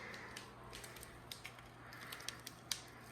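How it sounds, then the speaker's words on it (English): Faint, soft snips of scissors cutting open a small packet of instant yeast, a few light clicks over a steady low background hum. "Need the scissors for that."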